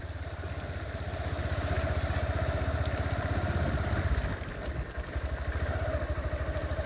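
A vehicle drives along a flooded road in Dhobaura, Mymensingh, during a river flood: a steady, close engine drone with rhythmic pulsing and a clattering, watery rumble, easing briefly before picking up again, with no talk.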